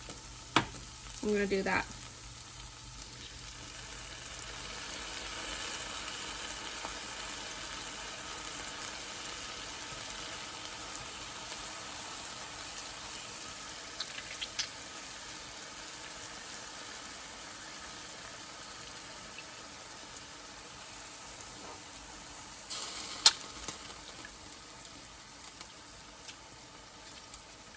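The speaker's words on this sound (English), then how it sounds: "The next step of my sauce is to crush these tomatoes by hand into the pan." Tomatoes crushed by hand into a pan of sizzling onions in olive oil for a mini lasagna sauce, a steady soft sizzle throughout with brief squelching thuds near the start and one around the end, a voice speaking briefly.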